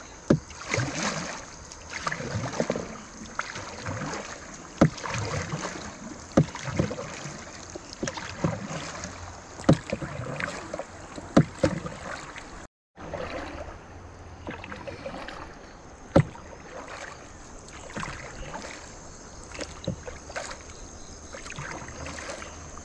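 Wooden oars splash and knock in a steady, rhythmic rowing pattern as a rowboat moves along the Gad river in the evening, with water lapping close and light wind noise.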